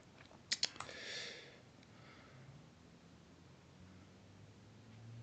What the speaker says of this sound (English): typing this Sanskrit mantra from memory because I don't have the keyboard